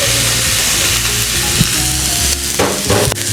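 Half a pound of ground beef fries in a skillet with a loud, close sizzle, broken by bursts of stirring and scraping toward the end.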